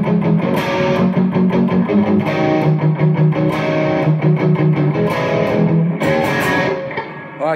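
A distorted electric guitar plays sustained chords with a washy reverb tail, loud and steady throughout, no voices.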